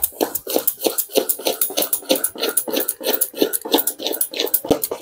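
A mixture sweetened with date palm jaggery is beaten by hand in a bowl, giving a fast, steady run of wet slapping and clinking strokes, close and loud, with no talking.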